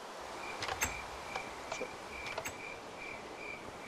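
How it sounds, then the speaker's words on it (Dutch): Game cricket in Minecraft chirping in short, evenly spaced bursts, steady and moderately faint against a soft ambient background, with a few brief clicks mixed in. "Hoor die krekel"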